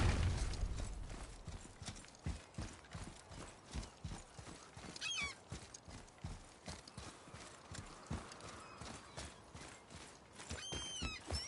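Horse hoofbeats from the video game God of War, a steady clip-clop rhythm of riding with occasional mechanical clanks, moderately quiet with no talk.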